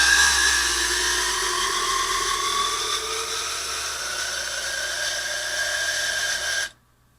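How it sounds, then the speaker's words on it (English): A power drill whines steadily at high speed for several seconds while drilling into a model aircraft wing for removable wing tips, its pitch shifting slightly, then cuts off abruptly. "that's going to be how far I want to drill into the wing"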